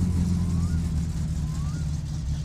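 Car engine idling steadily in the My Summer Car driving game after a replacement part from the repair shop, a continuous low rumble that runs the whole time without a break.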